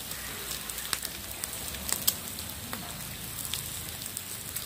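Light rain falls steadily, a faint, even patter with scattered sharper drips throughout, fairly quiet and with no voices.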